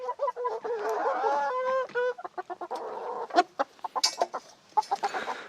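A chicken in a backyard coop clucks and squawks in a run of short, close, loud calls and staccato bursts that break up in uneven rhythm, with no talking.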